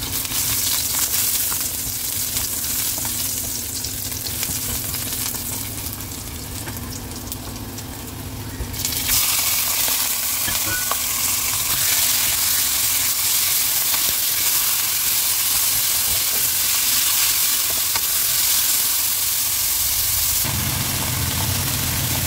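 Minced pork sizzles in a little oil in a pan, with a dense, steady frying hiss that grows louder and fuller partway through and keeps going without pause.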